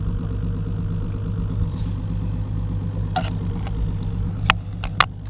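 Outboard engine on a bass fishing boat idles in a low, steady rumble through the stretch, with a few faint clicks and ticks near the end.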